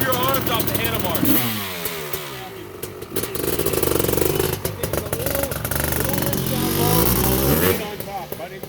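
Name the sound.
Honda CR500R motorcycle engine revving during jetting tuning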